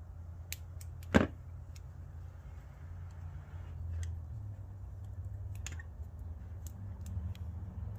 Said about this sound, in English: Let me get some tape and tape this up.